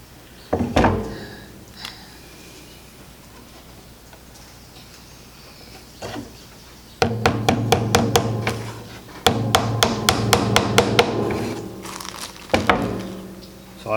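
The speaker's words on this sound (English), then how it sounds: "I'll do the first one with a hammer and nail" Hammer driving a nail into a wooden beehive frame: a few scattered knocks, then two quick bursts of rapid, evenly spaced close taps, with a faint voice in places.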